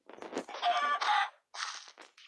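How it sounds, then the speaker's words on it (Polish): Chicken in the Minecraft video game, a few short clucking bursts with brief gaps between them, clear and fairly close, with no talk over them. "Zobacz, kurczak chce wyjść."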